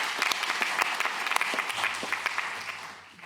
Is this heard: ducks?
no